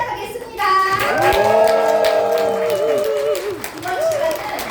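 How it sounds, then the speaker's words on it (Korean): An audience at a rally celebrating members' achievements bursts into clapping and loud shouted cheers that swell and hold steady for several seconds, with voices rising above the applause. "11호를 다시 한번 힘찬 박수와 함성으로 시작하겠습니다."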